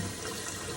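Running tap water splashes steadily over the outside of a kefir jar being rinsed, close and continuous for under a second with no talk.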